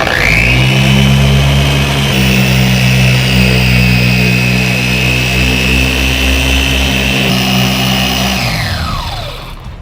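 A rotary polisher with a compound-loaded pad spins steadily on a car's paint at higher speed, giving a loud, even motor whine with a high tonal hum that winds down near the end.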